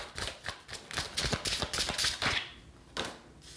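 A slim deck of tarot cards is shuffled by hand, a rapid run of crisp papery riffles and taps close by, pausing briefly before a final few snaps.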